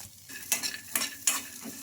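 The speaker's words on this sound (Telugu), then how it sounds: "ఇంకా ఈ కొబ్బరి కూడా ఒక నిమిషం పాటు ఫ్రై చేసుకోవాలి" Peanuts and fresh coconut pieces sizzle in a pan as a spoon scrapes and stirs them, three distinct stirring strokes over a low steady fry.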